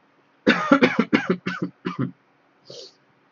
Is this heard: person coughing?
yes